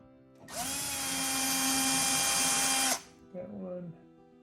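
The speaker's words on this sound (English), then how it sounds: "I think we have to remove these two Phillips head screws." A power driver whirs steadily for about two and a half seconds while backing Phillips head screws out of a 1998 Whirlpool dryer, then a brief second burst; loud and close.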